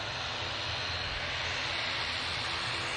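A Cessna Citation business jet at Manchester Airport gives off a steady, loud roar of jet engine noise, a continuous broadband rush heard from the spotting area with no pauses.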